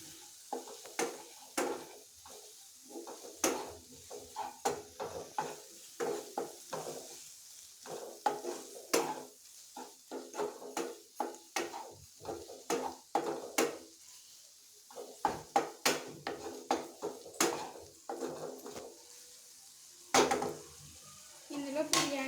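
Spices being stirred with a spoon in a frying pan, giving a run of quick scraping clicks and clinks against the metal over a soft sizzle, fairly close and with no talking.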